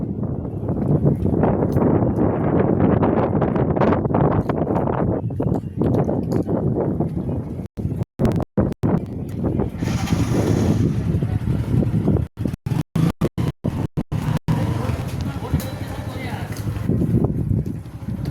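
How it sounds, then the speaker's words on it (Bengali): Steady wind blows hard across the microphone outdoors near a college, a loud continuous low rumble with short dropouts, and people talk over it now and then. "খুব সুন্দর বাতাস হয়েছে"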